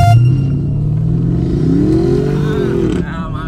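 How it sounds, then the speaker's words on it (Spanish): A car engine roars and climbs steadily in pitch as it accelerates hard, loud and close, then drops off near the end. "qué buen acelerón"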